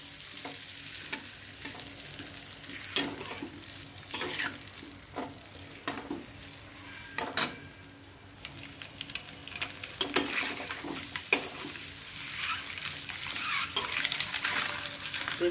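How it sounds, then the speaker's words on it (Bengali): Egg frying with turmeric in a pan, a continuous crackling sizzle punctuated by frequent spatula scrapes and taps, close and moderately quiet, growing busier toward the end, with no talking. "ডিমটা ভেজে তুলে রাখবো।"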